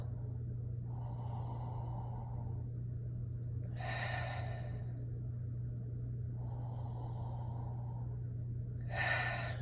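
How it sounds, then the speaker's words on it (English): Slow, deep breaths taken during a guided essential oil meditation, close and soft, with two long inhale-exhale cycles over a low steady hum. "4 nice deep breaths."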